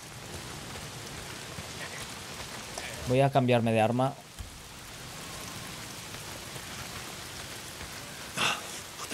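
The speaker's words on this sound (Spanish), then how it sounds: "Si llueve no me van a escuchar tan bien que si está en silencio." Steady rain hisses in the video game Days Gone, a constant broadband wash throughout with a brief spoken line over it partway through.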